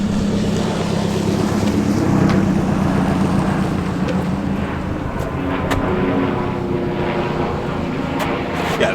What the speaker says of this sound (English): plane flying by. Makes this hard.